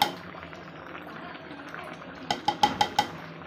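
Chopped green chillies stirred into saag in a metal pot, a quiet scraping bed followed by a quick run of four or five sharp spoon clinks against the pot rim near the end.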